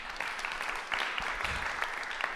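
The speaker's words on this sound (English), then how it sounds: "Could we give Alan a round of applause" Audience at a peacemaking lecture applauding a speaker, a steady wash of moderate clapping from a room full of people, fairly distant and even throughout.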